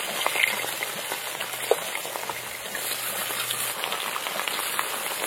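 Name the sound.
ribbonfish frying in a pan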